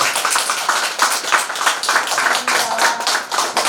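A room of attendees at a founding preparatory meeting of a Korean civic justice group claps together, a dense, steady patter of many hands held at an even level for several seconds with no voices over it.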